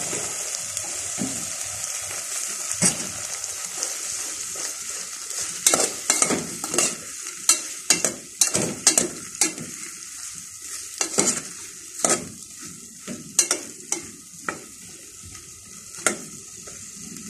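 String beans stir-frying in a pan with bottle gourd: continuous hissing sizzle with a run of sharp, close metallic clanks and scrapes from stirring, growing busier midway, with no voices.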